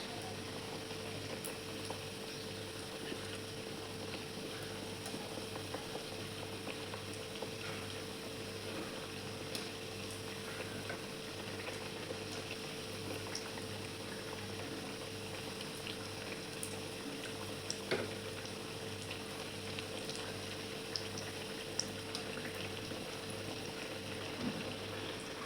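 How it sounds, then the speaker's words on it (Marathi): Potato vadi made from raw potatoes frying in oil over low heat, a steady close bubbling sizzle with faint crackles running evenly throughout, no voices. "आता व्यवस्थित क्रिस्पी तळून घ्यायचे आहेत आपल्याला"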